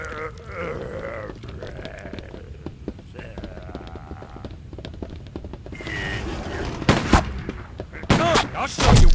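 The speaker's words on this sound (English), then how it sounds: "I shoot!" Gunshots ring out in Stubbs the Zombie gameplay, with game character voices and grunts first, then loud bursts of firing near the end.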